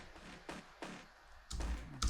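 High-frequency layer of a big-room techno bass, heard alone as a few short, bright hissy stabs spaced irregularly and getting louder, with heavier hits near the end.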